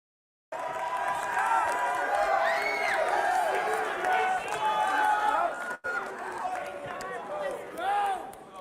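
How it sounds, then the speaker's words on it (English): A basketball crowd on its feet applauds and cheers in a sustained, loud wash of voices and clapping, with shouts and whistles rising and falling. "This crowd who braved the cold and the snow on its feet applauding the intensity."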